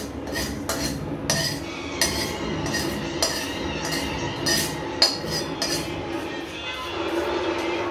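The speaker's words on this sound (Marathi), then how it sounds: "खसखस भाजून टाकते" Poppy seeds dry-roasting in a pan while being stirred, with repeated metallic clinks and scrapes of the utensil against the pan at an irregular rhythm over a low steady background.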